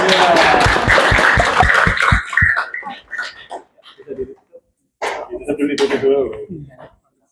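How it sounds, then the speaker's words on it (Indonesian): Classmates in a school classroom clap for a student group finishing its presentation, a short rhythmic run of claps for about two and a half seconds, followed by laughter and lively talking voices. "Tepuk tangan buat kelompok 2."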